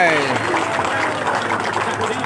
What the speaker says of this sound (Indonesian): Tepuk tangan meriah untuk beliau.